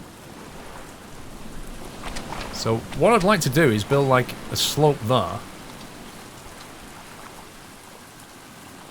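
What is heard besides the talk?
rain in the video game Stranded Deep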